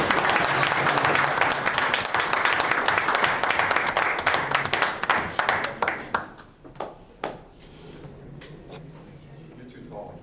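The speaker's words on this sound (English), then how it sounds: "Clap." Town council meeting audience bursts into loud, dense applause for a graduating student athlete, holding steady then thinning into scattered individual claps that fade out, with faint voices under the tail end.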